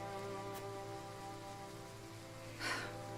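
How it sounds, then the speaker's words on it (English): Steady rain falls in the Triangle Strategy video game, a continuous even hiss with soft background tones and a brief louder swell near the end. "we can wait out the rain here for the day"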